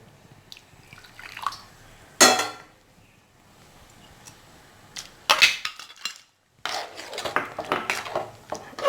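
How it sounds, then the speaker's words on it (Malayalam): Hot water splashing into a pot of sardine and taro curry in a few short pours, with clattering of a metal vessel and utensil against the pot, close by and without speech. "ഇച്ചിരി വെള്ളം ഒഴിക്കാം. ഇത് ഞാൻ ചൂടുവെള്ളമാണ്."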